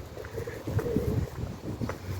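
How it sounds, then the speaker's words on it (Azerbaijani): Pigeons cooing outdoors beside a green park area in Baku, Azerbaijan, a few soft low murmuring coos repeating at a moderate distance with light ambient noise. "Göyərçinlər."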